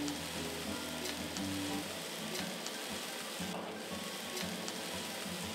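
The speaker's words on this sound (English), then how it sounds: "Woo, good sizzle." Fajita meat sizzles over a hot fire on a Weber grill, a dense, steady crackle with light pops at close range and no talking.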